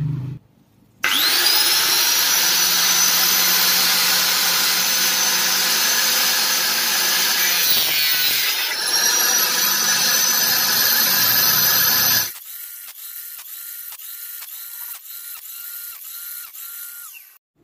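A power tool whines loudly and steadily as it cuts PVC pipe into short pieces, the pitch dipping midway, then shifts to a lower rattling grind before stopping.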